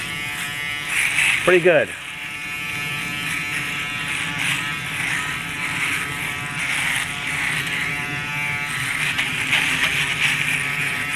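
A battery-powered AA electric shaver trims a face with a steady, close, high buzzing hum that runs throughout, while someone talks briefly over it near the start.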